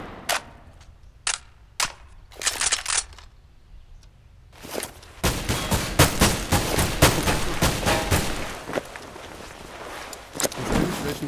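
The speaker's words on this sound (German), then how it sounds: "Die Schüsse kommen aus unserem Spawn" Gunfire in Counter-Strike: Global Offensive on the hostage map Insertion: scattered single shots early, then a dense run of rapid bursts and sharp cracks, fairly close and loud, without talk.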